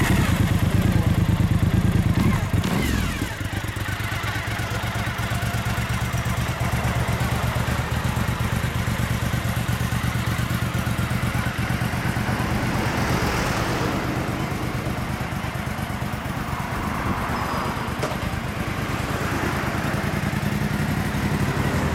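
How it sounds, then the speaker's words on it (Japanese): A 2006 Suzuki SV1000S V-twin motorcycle with a K-Factory aftermarket exhaust rumbles close by. A brief louder burst at the start settles into a steady, deep idle that holds for the rest of the recording. "僕エンジンを聞かせてもらいます。"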